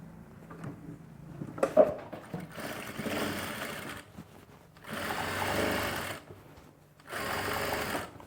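Sewing machine running in three sustained bursts, stitching the side seam of a winter dress during a tailoring class, with short pauses and a few clunks of handling between runs.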